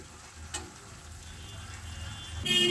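Chopped, deseeded tomatoes drop into a pan of frying bitter gourd curry, giving a steady close sizzle that lifts and grows louder near the end, with a brief stir-like clatter early on.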